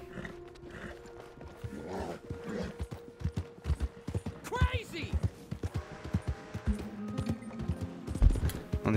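Horse hooves clip-clop at an uneven pace in the video game Red Dead Redemption 2, mixed with game music and ambient effects, while someone talks over the top.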